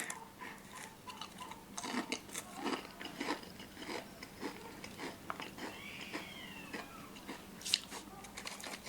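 Someone eats spicy potatoes, with close, quiet, irregular crunches and chewing bites repeating through a soft background.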